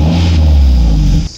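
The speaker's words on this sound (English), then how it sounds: "I'll be starting the vehicle and showing you the exhaust note of this vehicle" A modified 2007 Maruti Gypsy King with a half header exhaust idles loudly and close with a deep, steady rumble, then cuts off abruptly near the end.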